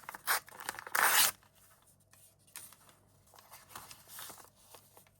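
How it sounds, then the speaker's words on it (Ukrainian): Crinkly tearing and rustling of a plastic packet being ripped open, a sharp loud burst near the start, then softer handling rustles close by. "Відкриваємо пакетик."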